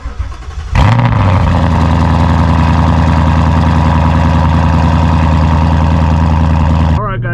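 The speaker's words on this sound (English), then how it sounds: "we're about to do a cold start" Ford Mustang engine on a cold start: a brief crank at just under a second, then a loud, steady, deep idle that rumbles on for about six seconds before cutting off abruptly near the end, with no talk over it.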